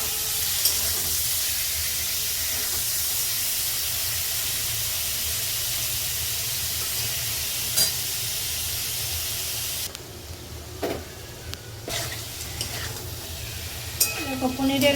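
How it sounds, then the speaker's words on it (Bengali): Paneer shallow-fries in a pan with a steady, loud, continuous sizzle and hiss that holds throughout, thinning slightly near the end as a few clicks and stirring sounds break through. "প্রথমে একটু পনিরটা হালকা করে ভেজে নিই।"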